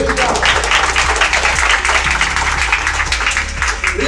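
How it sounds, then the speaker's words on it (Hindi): Clapping from a church congregation during a healing sermon, a steady wash of applause with a deep, regularly repeating low thump running underneath. "एक बार ताली बजाएंगे परमेश्वर के लिए।"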